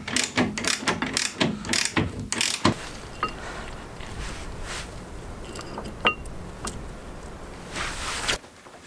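Brake parts on a Mk2 mTDI are tightened into place by hand, with a burst of quick ratcheting clicks and metallic clinks near the start, then sparse faint clicks and handling noises over a quiet background.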